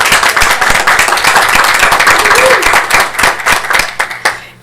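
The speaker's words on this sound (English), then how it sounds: "Let's give him a round of applause." Loud, dense hand clapping from the audience at a Beloit city council meeting honoring an award recipient. Sharp claps keep up steadily, then thin out and fade over the last second.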